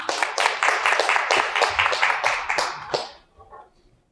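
An audience at a Korean corporate governance forum claps for a speaker presenting model articles of incorporation, a brisk burst of applause from a modest crowd that holds for about three seconds and then quickly dies away to a few scattered claps.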